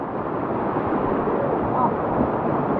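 A river swollen by heavy upstream rain surges past as a loud, continuous roar of rushing floodwater, close by and unbroken, while people talk over it.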